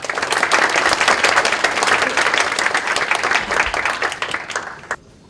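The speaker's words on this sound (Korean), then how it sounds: "뜨거운 박수로 부탁드립니다." An indoor audience at a university scholarship award ceremony gives a sustained burst of dense, even applause that holds steady for several seconds, then fades and stops abruptly.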